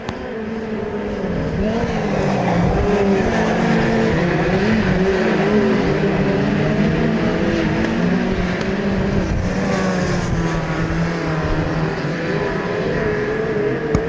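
Midget race cars lap Ruapuna Park in New Zealand, several engines whining and revving continuously as they circle at close range, a loud, sustained and shifting chorus of motors.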